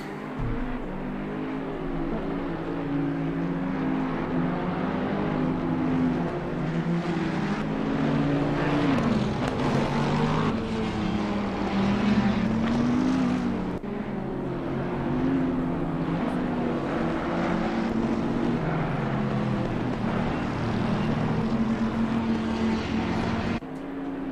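Race cars in a racing video game roll around Zandvoort on a warm-up lap, a steady droning engine note that rises and dips in pitch, with a continuous broadband roar at an even level throughout.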